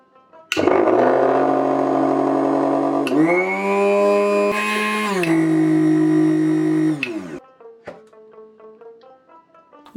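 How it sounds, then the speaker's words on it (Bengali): Electric mixer grinder whirring loudly as it grinds peeled, chopped, sun-dried ginger into powder; a steady high-pitched motor whine in two bursts with a pitch shift partway, then rattling clatter as it winds down. "এগুলোকে এবার মিক্সিতে গ্রাইন্ড করে নেব।"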